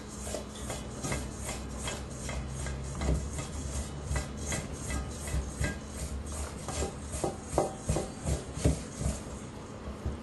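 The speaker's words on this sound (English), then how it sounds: "There's still a few biggish lumps of fat that just still need to be rubbed in." Hands rub lumps of fat into flour for mince pie pastry, making a close, soft, rhythmic rasping and rubbing that grows slightly louder and more pronounced toward the end.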